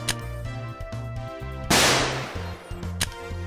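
A pump-action rifle fires once, a single loud blast that rings out and decays over about a second, heard over a steady background music bed with a later sharp click.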